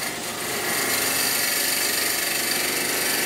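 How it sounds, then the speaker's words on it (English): A gouge takes a finishing cut on a wood lathe while turning a wooden sword, a loud, steady, close rasping hiss of tool on spinning wood that holds without pause. "if you want to get a finishing cut with one of these gouges, you get a good finish with it like a skew"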